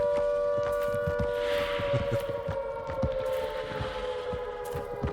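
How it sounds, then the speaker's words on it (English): Air raid siren in the horror video game Ad Infinitum, a sustained wailing tone droning steadily over footsteps and ambient rumble. "That air siren goes freaking great with this game."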